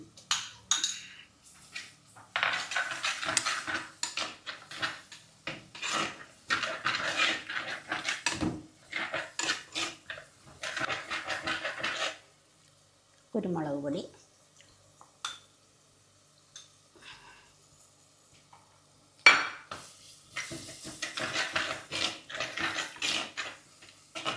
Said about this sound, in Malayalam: ഉള്ളിയും പച്ചമുളകും മൂക്കാറായി ഇനി അടുത്തത് വെളുത്തുള്ളി ഇഞ്ചി